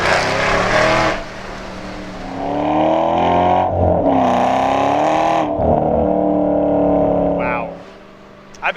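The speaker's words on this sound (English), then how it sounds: "I floored it with both traction control on and off." A 2011 Ford Shelby GT500 accelerates at full throttle, its engine roaring loudly from the cabin with rising pitch through several gear changes, brief dips between shifts.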